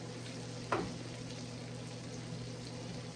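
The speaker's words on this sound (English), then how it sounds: "we're just going to saute that onion up a little bit" An onion sautés in butter in a pan, a soft, steady sizzle with a brief stirring scrape near the start, quiet and close with no talking.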